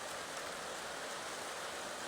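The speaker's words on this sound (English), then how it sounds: "All that rain," Steady rain falls outdoors as an even, faint hiss with no pauses and no voices.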